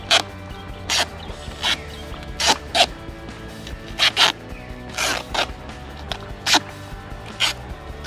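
Packing tape is ripped off the roll in short sharp bursts, about a dozen quick tearing strips at irregular intervals, while it is wound tightly to fasten a fan to a stake.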